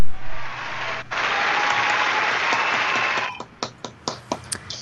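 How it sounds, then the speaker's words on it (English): A live studio audience breaks into sustained applause that fades out, leaving a few scattered single claps at the end. "And if we could have a little clap, Ryan, we'll take some applause."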